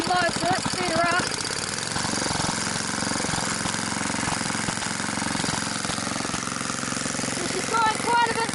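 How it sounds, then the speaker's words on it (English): A BSA 220 motorcycle engine runs steadily after being sped up, giving a continuous close mechanical drone with a fast, even firing rhythm that stays loud throughout. "So I got the restart unload, so let's speed her up."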